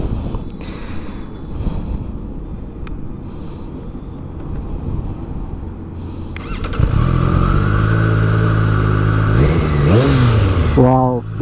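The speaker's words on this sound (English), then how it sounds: "that's the sweet sound of the inline 3" A 2020 Triumph Street Triple RS with an inline-three engine rides off, its engine note rising loud and close over a steady rumble, climbing through revs toward the end.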